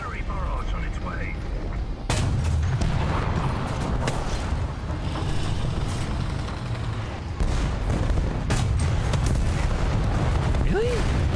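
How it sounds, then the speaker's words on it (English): Artillery barrage explosions in War Thunder, a tank combat game: repeated heavy booms and blasts rumble through the whole stretch, with a sharp surge at two seconds and another near seven, under faint in-game voice chatter. "Enemy forces have captured the zone. Artillery barrage on its way."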